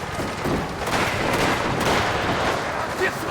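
Dense gunfire and shooting at riders breaks out during a chase in the video game Mafia: The Old Country. Loud, continuous bursts of shots blend into a thick, noisy barrage across the whole stretch.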